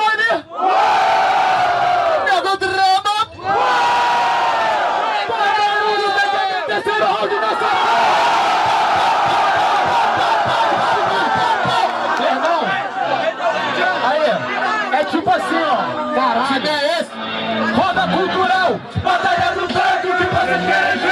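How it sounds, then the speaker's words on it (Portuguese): Audience at a freestyle rap battle final in Rio de Janeiro cheers and shouts continuously, a dense loud roar with yells and chatter throughout, briefly dipping before swelling again. "Barulho quem gostou do freestyle do MC Johnny."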